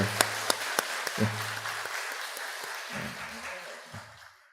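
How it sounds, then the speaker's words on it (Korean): Church congregation applauding in thanks at a temple dedication service, a burst of scattered claps that swells briefly and then thins out, with a few low voices murmuring underneath. "여러분 감사의 박수 한번 올려드리면 감사하겠습니다"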